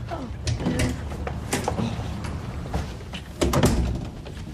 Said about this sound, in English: That's the door.